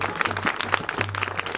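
Audience applause at a Punjabi devotional gathering for Baba Balnath in Dhani Pind, a short burst of steady clapping with no voices over it.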